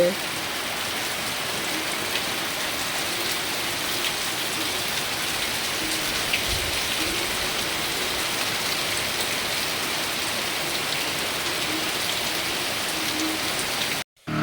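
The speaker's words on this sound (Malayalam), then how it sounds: "നല്ല ശബ്ദം മഴയുടെ ഒരു പേടി തോന്നണ ശബ്ദാട്ടത്" Heavy rain pouring down in a dense, constant hiss, loud and unbroken until it cuts off abruptly at the end.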